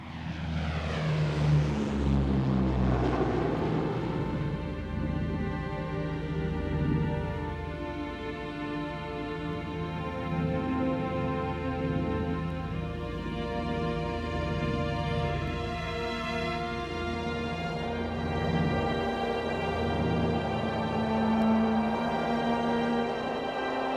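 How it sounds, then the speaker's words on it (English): A Wellington bomber takes off on a November 1943 night; its propeller engines hold a loud, steady droning roar whose pitch rises and shifts throughout. "take off in Wellington aircraft number HF-182"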